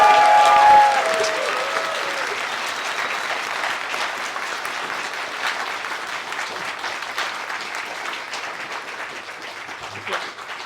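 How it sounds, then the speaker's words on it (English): A live audience at a fan Q&A event with a voice actress applauds loudly, sustained clapping from a sizable crowd that swells at the start and slowly tapers over about ten seconds. "can we get a big round of applause for Judith Gibbins?"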